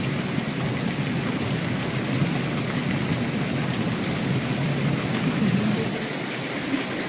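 Rain falling on an outdoor Japanese hot spring bath in autumn, a steady, even hiss of drops on water and stone, moderately loud and unbroken throughout.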